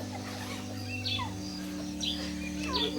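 Small birds chirping in the morning at a rural stop in Mali, scattered faint tweets and short calls over a steady low engine-like hum.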